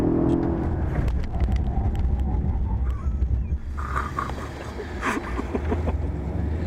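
A Mercedes CLS63 AMG at the Brooklands track at Mercedes World accelerates hard and then brakes hard, a loud, close, continuous engine and road roar that dips and swells.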